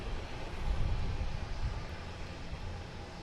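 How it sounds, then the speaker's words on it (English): An Alaska Airlines jet backing out of the alley at Boston Logan gives a steady, broadband engine rumble and roar, fairly close, with no talk over it. "we got an Alaskan backing out here in the alley"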